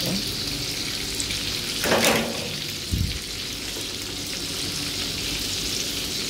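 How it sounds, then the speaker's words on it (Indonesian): Onions fry in a pan over raised heat for a Minang-style sambal tumis, giving a steady, close hiss of sizzling with a couple of brief stirring clatters partway through. "Kita goreng dulu bawang ni."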